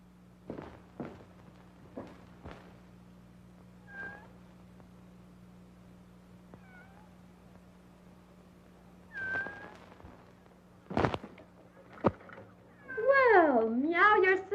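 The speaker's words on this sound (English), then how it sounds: "Well, meow yourself." A cat meows several times, short calls spread out, ending in a longer, louder wavering yowl, with a few soft thumps in between.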